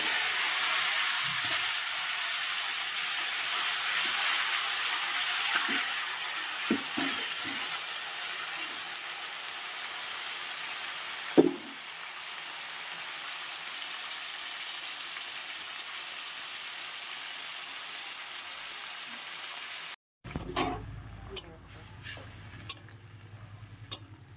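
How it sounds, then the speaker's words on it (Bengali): Cauliflower frying in oil in a wok, a steady broad hiss of sizzling with occasional stirring knocks, fairly close; near the end the sizzle cuts out and gives way to a few sharper clinks and quieter kitchen sounds. "কড়াই যে তেলটা আছে ওই তেলে ফুলকপিটা ভেজে নিচ্ছি"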